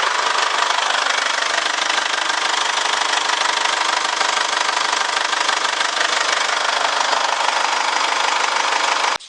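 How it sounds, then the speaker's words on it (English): A Holden Captiva LTZ with a 2.2L diesel engine idles just after start-up, giving a steady, close, loud rattling clatter with a constant tone throughout, cut off at the very end. "let's just give it a start up and alright, that started up fine"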